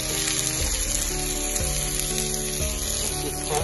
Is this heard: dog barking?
no